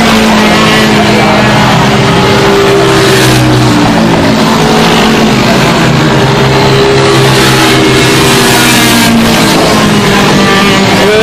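Racing karts in a senior super heavy race lapping a racetrack, several loud engines droning and revving together with shifting pitches as they pass, continuous and close, with commentary voices faintly underneath.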